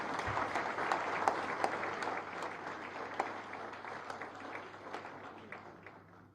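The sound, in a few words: audience applause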